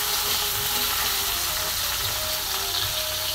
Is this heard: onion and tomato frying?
yes